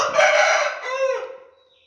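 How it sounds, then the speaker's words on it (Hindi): A single loud hen call rings out close by, a drawn-out squawking cry that rises and then trails away into silence, from a hen sitting after laying an egg. "हमारी मुर्गी बैठी हुई है"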